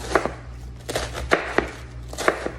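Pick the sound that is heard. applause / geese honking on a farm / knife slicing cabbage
knife slicing cabbage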